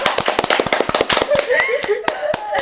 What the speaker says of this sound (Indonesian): Tepuk tangan buat Ici Bos